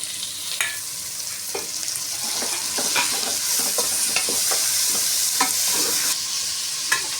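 Carrot and tomato sauté in a hot pan, a steady bright sizzle running throughout with scattered scraping stirs and clinks, close and continuous with no talking.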